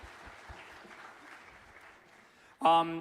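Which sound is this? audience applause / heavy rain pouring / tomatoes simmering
audience applause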